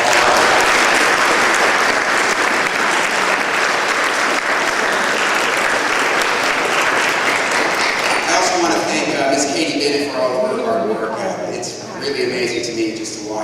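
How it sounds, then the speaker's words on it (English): A school concert audience gives a big round of applause to 8th grade performers at a middle school winter concert, loud dense clapping that fades as a voice begins speaking over it. "let's give them a big round of applause"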